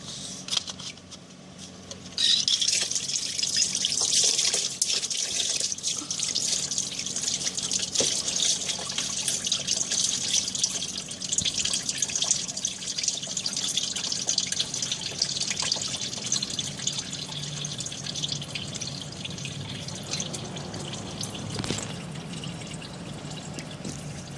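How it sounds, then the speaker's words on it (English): Water drains from the radiator of a 2005 Hyundai Elantra through a funnel into a pan below, a steady splashing trickle that runs on for the whole stretch at an even, fairly loud level, with no talking. "I'm holding a funnel down below so that I can direct the water into the pan below."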